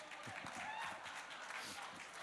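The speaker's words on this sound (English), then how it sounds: "Clap louder." Faint applause from a press conference audience, a dense, steady patter of many hands clapping at a distance, with low voices underneath.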